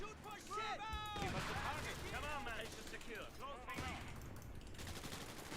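Two upgraded machine guns firing in the video game Company of Heroes 3, steady rattling bursts under busy battle noise, with voices talking over them throughout.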